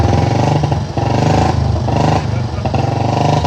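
A heavy Bullet motorcycle engine thumps loudly and close by, throbbing in a steady rhythm and swelling as it revs up and eases off.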